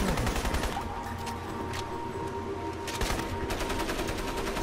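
Automatic weapon fire in a video game, a rapid, steady stream of shots from a gun firing continuously on its own, rattling evenly throughout at moderate loudness with a faint steady tone underneath.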